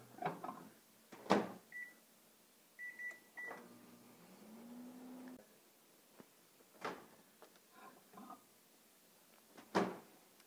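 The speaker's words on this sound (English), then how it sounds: "we're going to microwave it for about 60 seconds until they're melted" A microwave oven melting mints hums quietly, with a few clear beeps from its panel and a door clunking open and shut nearby.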